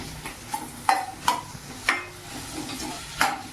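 Onions frying in oil in a kadai, sizzling under a steady hiss while a spoon stirs and scrapes against the metal pan in sharp, irregular strokes.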